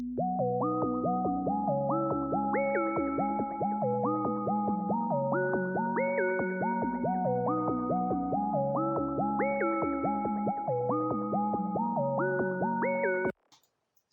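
A bright synthesizer melody from an Electra X preset repeats in a looping arpeggiated pattern of stepping notes, loud and steady, then cuts off abruptly near the end.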